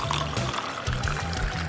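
A glass of water is poured into a large Holi water gun, a steady close splashing and trickling fill with brief pauses.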